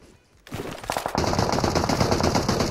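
Gunfire in the PUBG Mobile shooter game, a quiet moment broken by sudden rapid automatic bursts that build into loud, dense, continuous firing close by.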